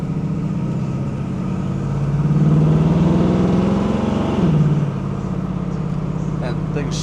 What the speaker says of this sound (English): Motor nice and happy, coming up through the RPM range as well.